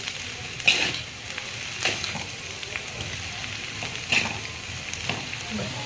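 Veg noodles and vegetables tossed and stirred in a hot pan, with a steady sizzle and frying hiss broken by several scraping, clattering tosses spaced about a second or two apart, close and fairly loud.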